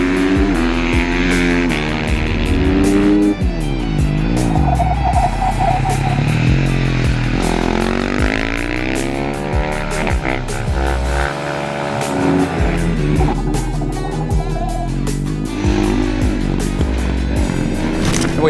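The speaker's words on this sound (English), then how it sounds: "I can hear the sound of 450cc single cylinder motorcycles" Several 2025 KTM 450 SMR single-cylinder supermoto racers ride on a track, engines revving and shifting loudly with rising and falling pitch as bikes pass close by, overlapping snarls continuing without pause.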